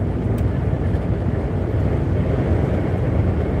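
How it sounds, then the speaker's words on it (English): Strong wind roars and buffets steadily during a stormy night drive from Bristol to London, a dense low rumble of gusts mixed with road noise inside the moving car. "It's very windy though. I'm not sure if you can hear the wind."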